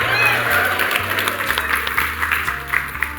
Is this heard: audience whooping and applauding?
yes